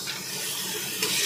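Onion, potato, ginger, garlic and masala sizzle and hiss steadily in a frying pan, a soft continuous spattering with no voices.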